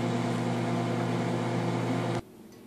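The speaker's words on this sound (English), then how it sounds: "So now follow me over to the microwave, and I'm going to get this nuked" A microwave oven heats a mousse mixture, giving a steady, loud electric hum with a fan-like drone that cuts off abruptly near the end, leaving faint room quiet.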